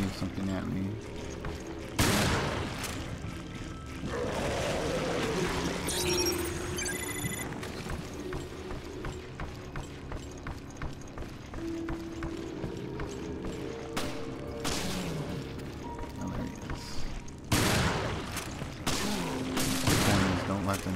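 Enemy gunfire in the video game Resident Evil Revelations, a sequence of sharp shots and bursts of varying loudness over a continuous game soundtrack, with a person talking throughout.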